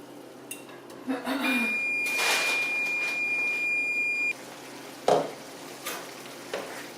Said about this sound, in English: As you can see, everything's boiling.